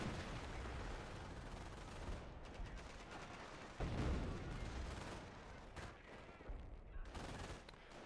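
Dense machine gun fire from a Company of Heroes battle, continuous overlapping bursts with heavier thuds and a loud impact near the middle, sustained at steady loudness throughout.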